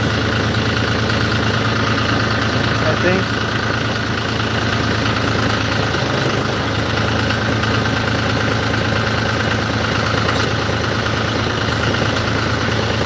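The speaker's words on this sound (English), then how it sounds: "he's going to start the tractor and roll it back a little bit" A John Deere tractor engine idles steadily and close by with a continuous low rumble and faint knocking vibration, while a brief voice is heard.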